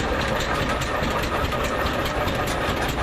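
Old tractor from the Thrasher Machine Company running in a parade, its engine a dense, steady knocking rumble that stays loud and close throughout, with no talking.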